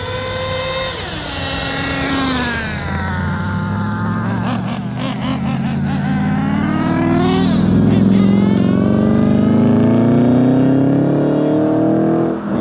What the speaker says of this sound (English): Let it go on record that the XTM Mammoth just won against a Mustang.